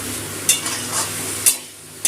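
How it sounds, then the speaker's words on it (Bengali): Potatoes frying with poppy seed paste in a pan, a soft steady sizzle with a few sharp scraping stirs, close and fairly quiet, with no voices. "পোস্ত বাটাটা দিয়ে একটু আলুটা ভেজে নেব"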